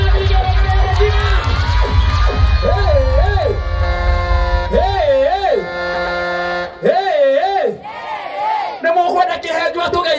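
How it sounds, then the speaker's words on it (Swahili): A crowd at a celebration cheers loudly, with repeated warbling ululations rising above the noise and low voices and rumble underneath, all close and sustained. "wapi makofi na shangwe na vigelegele"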